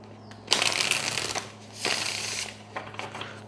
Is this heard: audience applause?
no